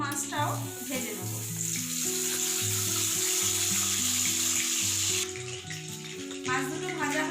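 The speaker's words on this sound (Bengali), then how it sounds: "অন্য মাছটাও ভেজে নেব।" Tilapia fish sizzling steadily in a kadai of hot oil, a loud, continuous broadband crackle with a few brief clinks and shifts as the pieces are turned, easing off briefly near the end.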